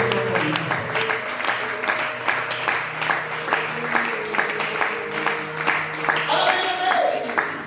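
A church congregation applauds at a sermon, dense clapping sustained for several seconds with a voice and tonal music running beneath it.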